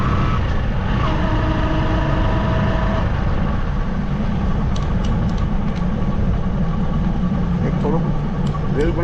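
A motorbike engine idles in Srinagar with a steady, even low rumble throughout, while a voice talks over it and faint higher tones come and go.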